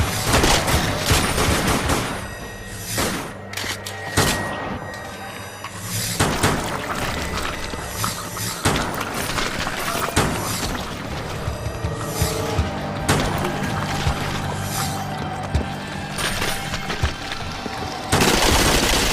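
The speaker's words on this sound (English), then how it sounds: "It's a great place to use the SMG like the game tells you." SMG gunfire in the PS3 zombie shooter Dead Nation, rapid sustained bursts of automatic fire with booms and game effects, loud and dense throughout with brief gaps.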